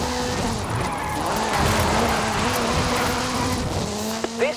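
A Hoonigan Gymkhana 10 Ford Focus RS RX in Forza, a 2-litre turbocharged front-engined all-wheel-drive rally car, roars steadily and close with sustained engine tone and squealing tires throughout.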